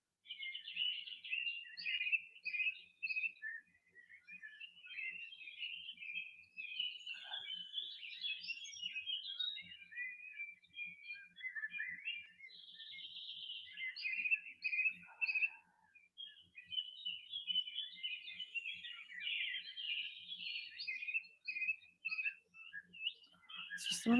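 A single bird calls repeatedly in a quiet room, a recorded birdsong track of varied chirps and whistled phrases coming in bursts with brief pauses, fairly faint and alone without talk.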